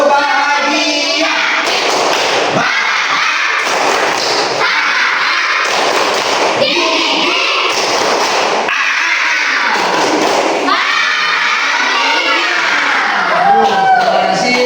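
Schoolchildren in a classroom performing the tepuk bahagia clapping chant: loud, continuous rhythmic clapping mixed with chanting young voices, steady throughout with no pauses.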